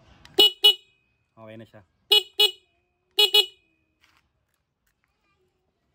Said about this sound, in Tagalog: Ayan yung busina kasi, no?